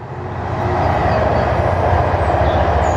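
A train passes close by on a morning walk, its broad rumbling roar swelling in the first second and then holding loud and steady with no voices over it.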